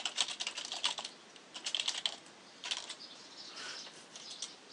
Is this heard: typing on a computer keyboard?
yes